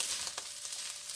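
Fresh garlic and onion frying in a pan for pork adobo fried rice, a soft steady sizzle with a faint scrape of stirring, close and quiet, with no talking.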